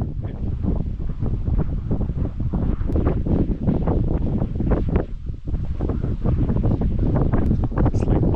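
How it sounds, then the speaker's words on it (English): Strong wind buffets the microphone in loud, irregular gusts at an outdoor campsite in Austria, roaring almost without a break. "It's so windy though"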